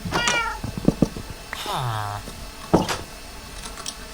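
A Minecraft cat meows a few times in short, close calls, with game clicks and effects around them.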